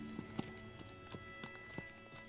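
Horse hooves clip-clop at a steady walking pace in a video game, a string of soft, evenly spaced thuds over a constant faint background hum.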